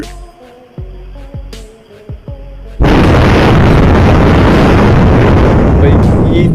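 A sudden loud, crackling roar of thunder bursts in after a few quieter moments and rumbles on continuously, close and overwhelming.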